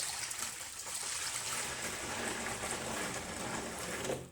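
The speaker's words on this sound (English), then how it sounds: "I put a little water in there" Warm water runs and trickles into a bowl in a sink during a power and water outage, a steady close splashing stream lasting throughout without talk.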